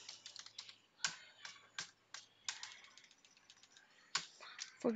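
Quiet, irregular keystrokes clack on a computer keyboard while a Bash command is typed into a terminal, the taps falling in quick bursts with short pauses.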